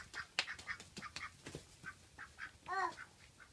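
A duck gives short, soft quacks and calls amid scattered sharp clicks and knocks, with one louder, rising honking call near the end, all fairly faint and close.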